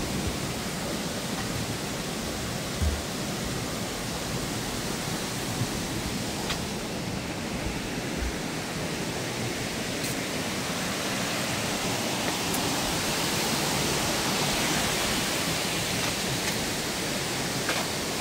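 Sundarijal waterfall in Kathmandu, heard as a constant broadband rush of cascading water, even and unbroken, close and loud throughout.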